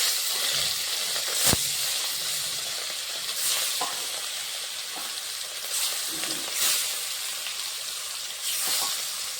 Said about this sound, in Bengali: এদিকে মাছ ভাজা হচ্ছে, ততক্ষণে সবজিগুলো কেটে নেব।